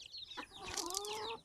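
A crossbred hen, sabelle-pout millefeuille lemon crossed with a millefleur Pekin rooster, gives a short, close series of clucks and a drawn-out rising cackle, clear and alone.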